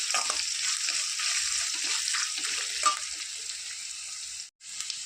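Green chili, ginger and garlic fry steadily in hot oil for a pickle, a continuous close sizzle with a faint stir partway through and a brief drop to near silence near the end.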